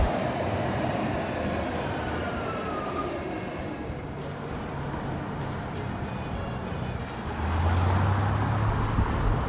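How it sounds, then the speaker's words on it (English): A downtown-bound commuter train in Calgary pulls in and runs past a station, a steady rumbling rail roar that fills the clip and grows louder and heavier near the end as it arrives close by. "My train is here for downtown."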